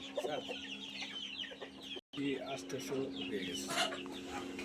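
Several native chickens cluck and murmur close by on a poultry farm, with a steady low hum underneath and a brief dropout midway.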